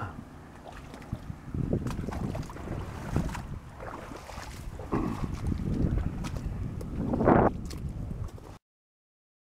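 Gusty wind buffets the microphone in uneven rushes over lapping water on a Missouri lake in early March, loud and close, with no one speaking.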